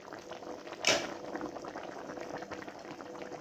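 A covered pot of chicken curry with peas and carrots simmers in water, giving a faint, steady bubbling hiss close by, with one brief louder splash or lid clatter near the start.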